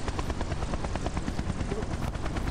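Helicopter in the Exfil multiplayer shooter game, a loud continuous rotor chop and engine roar filling the whole stretch without any gaps.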